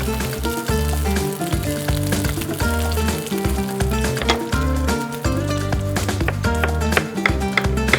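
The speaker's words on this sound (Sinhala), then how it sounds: "ඉතින් වම්බටු ටික බැදෙන අතරතුර විටින් විට අපිට මේ විදිහට කලවම් කරගන්න පුළුවන්" Sliced brinjal frying in a pan, a steady, dense sizzle that continues throughout, partly under rhythmic background music, with no talking.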